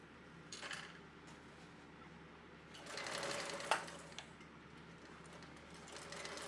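A sewing machine runs along the edge of a tote bag, stitching the lining and exterior together, a faint mechanical whir that rises into a brief louder burst of stitching before easing back.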